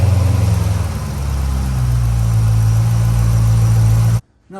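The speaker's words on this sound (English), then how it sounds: "start the engine, let it cycle, shut it off" A 2008 Corvette C6 engine runs at a loud, steady idle up close during an oil change, with a deep low rumble throughout before cutting off abruptly near the end.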